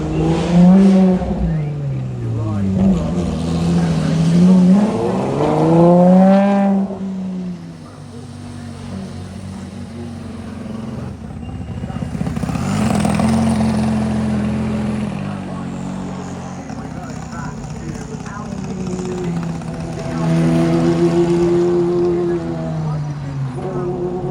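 A supercar driving on the track at the Goodwood Festival of Speed 2025, its engine rising and falling through repeated revving sweeps as it passes, heard under ongoing commentary.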